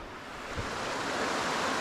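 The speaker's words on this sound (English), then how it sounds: "the most amount of water I've ever seen coming out of an outflow of a dam" Water rushing out of a dam outflow in a Vermont wetland makes a dense, steady roar close by, with no talk over it.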